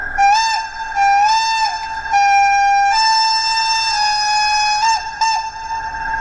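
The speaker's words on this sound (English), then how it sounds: "F11 is a long blast," Piko BR 78 model steam locomotive sounding its long whistle, a loud multi-tone blast held for several seconds with short breaks and pitch bends, close and alone.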